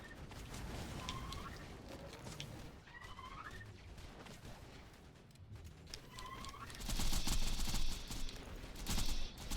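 A deployed turret in Borderlands fires sustained automatic bursts amid chirping game effects, the gunfire swelling louder and denser toward the end, with no talking.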